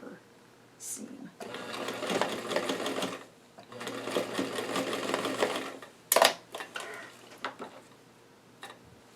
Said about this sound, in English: sew it again from the other direction with a deeper seam